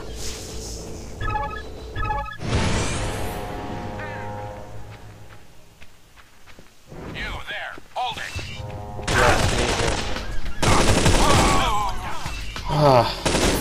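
A video game firefight against three enemies and a sniper, with dense bursts of gunfire in several loud clusters and quieter gaps between the volleys.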